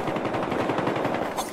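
Rapid automatic gunfire in a video game, a dense continuous burst of loud shots with no pauses.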